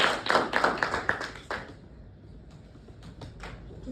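A small group claps briskly for about a second and a half, then the clapping thins out to a few scattered, fading claps.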